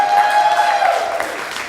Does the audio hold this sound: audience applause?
yes